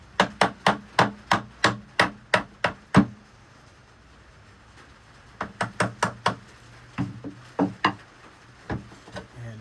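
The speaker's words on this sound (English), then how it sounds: "soft face hammer" A soft-faced hammer taps repeatedly on a doublewide drum carder in an even rhythm, about a dozen light knocks, then a pause before another, slightly irregular series of taps.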